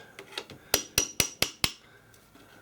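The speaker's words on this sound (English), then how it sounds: "just get a hammer and an old screwdriver" Five sharp metallic taps in quick, even succession, close up, as a hammer strikes an old screwdriver set against a tight nut, with a few fainter knocks before and after.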